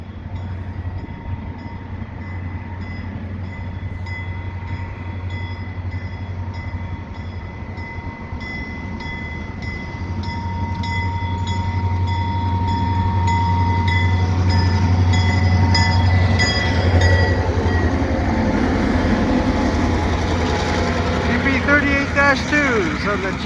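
CP short freight local with GP38-2 diesel locomotives hauling tank cars in winter at Dorval, a steady low engine drone building louder as the train nears, with rumbling wagons and faint wheel noise passing close.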